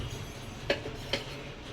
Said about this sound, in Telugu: దీంట్లోనే ఆయిల్ వేసుకుందాం. ఇది ఒక పెద్ద చెంచాతో ఒక 3 చెంచాలు ఆయిల్.